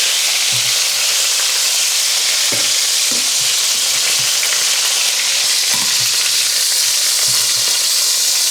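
Chicken pieces frying in a pan for a honey chicken dish, a steady close sizzle with crackling and occasional clinks as they are turned and moved around.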